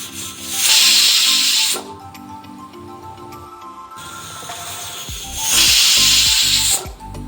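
Two loud bursts of rushing, hissing steam from a pressure cooker of mutton after two whistles, each lasting about a second, separated by quieter clattering and scraping sounds.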